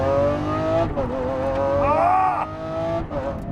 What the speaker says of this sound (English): I am driving a 2020 Lamborghini SVJ.